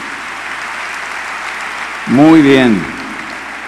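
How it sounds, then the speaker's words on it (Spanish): Steady applause from a church conference crowd welcoming first-time visitors, a continuous wash of clapping that runs throughout while a voice briefly speaks over it near the end. "un aplauso para esta gente que viene por primera vez"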